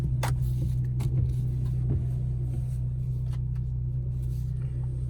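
A Peugeot 2008 Allure idles steadily just after starting, a smooth low engine hum heard from inside the car, with a few light clicks and handling noises over it.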